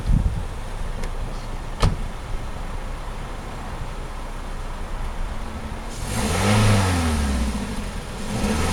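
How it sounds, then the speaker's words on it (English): A Toyota Corolla engine idles roughly after a Seafoam treatment, then revs high once in a rising, sustained surge near the end before falling back to idle; there is a sharp click early on. "Like just do a couple high revs."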